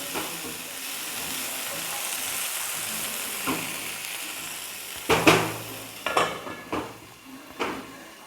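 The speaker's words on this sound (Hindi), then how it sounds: "आधा कप मटर, अब हमको इनको 2 मिनट तक ढककर भूनना है।" Half a cup of peas frying in a covered pan, a soft steady sizzle under occasional metallic clinks and scrapes of the lid and pan.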